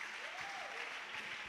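Church congregation applauding to praise God, a steady wash of clapping held at one level for a moment, with a sung or spoken tone gliding faintly underneath.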